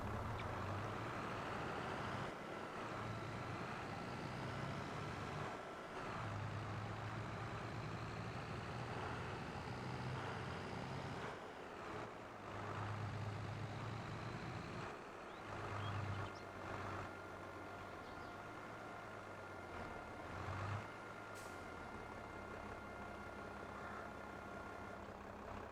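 Tractor engine in Farming Simulator 22, a steady droning hum with low throbbing tones that rise and fall through occasional brief dips and clunks, continuous and moderately loud.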